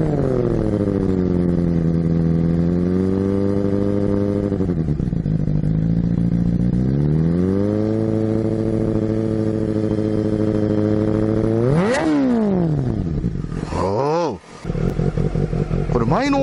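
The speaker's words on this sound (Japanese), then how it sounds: "マフラーの音。" Honda Hornet 250 motorcycle exhaust idling steadily, then blipped with a couple of sharp revs near the end, close and loud with no talk over it.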